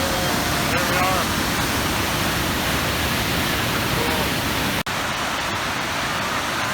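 Rushing water from a river pouring out of a cliff face in Jasper, heard up close as a steady, loud broadband roar that continues throughout with no break.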